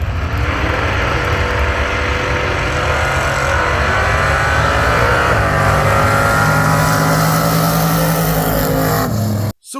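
A loud, close race car engine roars at a drag race, climbing steadily in pitch as it accelerates hard before cutting off abruptly.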